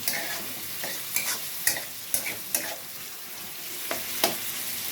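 Onions frying in a pan for chana masala, a constant sizzle broken by repeated scraping and clicking strokes of a spoon stirring at a steady, uneven rhythm.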